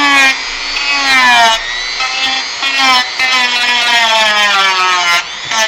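A Dremel rotary tool grinds a model platform, giving a loud, high, whining buzz whose pitch wavers and drops as it bites into the piece, running in several long passes separated by brief gaps.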